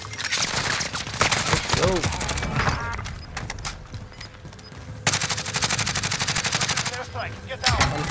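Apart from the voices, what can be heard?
gunfire in a video game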